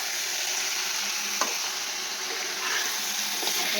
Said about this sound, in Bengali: এবারে আস্তে করে নাড়িয়ে দিই